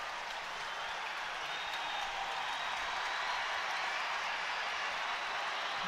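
Steady broadband roar of a large stadium crowd at the 2008 All-Ireland Senior Football Final between Tyrone and Kerry, a continuous wash of cheering and scattered applause as substitutes warm up on the sideline, even and unbroken throughout.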